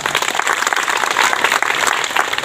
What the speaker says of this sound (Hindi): सर तालियां बजाइए एक बार